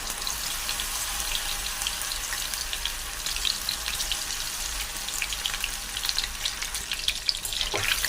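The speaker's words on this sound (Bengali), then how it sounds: "তেল গরম ছিল বন্ধুরা তার মধ্যে আমি দিয়ে দিলাম সয়াবিনগুলো" Soya chunks frying in hot oil give a loud, dense, continuous crackling sizzle heard up close, with a brief clatter near the end and no voices.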